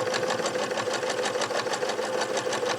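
A Pfaff Quilt Ambition 630 sewing machine stitches during free-motion quilting, a quick, even needle rhythm tapping close by with no voices.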